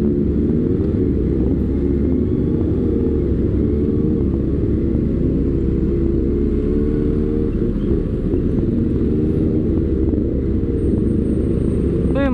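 A BMW S1000 1000cc motorcycle rides through congested traffic, its engine a steady loud low rumble with shifting harmonic tones throughout, blended with surrounding vehicle noise and no talk.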